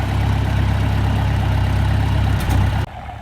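Tractor engine idling near a top pasture while mowing weeds, a steady low rumbling drone with a brief clatter near the end before it abruptly drops away.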